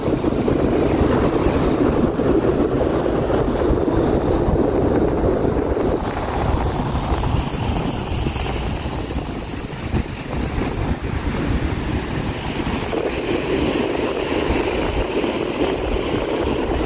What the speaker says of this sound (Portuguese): Mar muito, muito, muito violento,